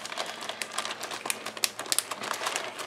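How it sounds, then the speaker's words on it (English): A plastic zip-top bag holding seasoned chicken is sealed with a run of quick, crisp crinkles and small ticking clicks, close and fairly quiet, with no talking. "you're going to zip up the bag."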